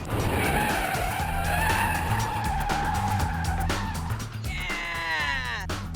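Tires of an ordinary car skid loudly through a 180-degree handbrake spin on a test track, a sustained screech with engine roar underneath that ends in a rising, sweeping squeal.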